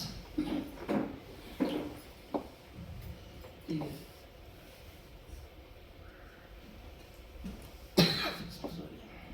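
A man coughs repeatedly during a spiritual lecture in a quiet hall, several harsh close bursts in a cluster early on, then scattered coughs and a loud final one near the end.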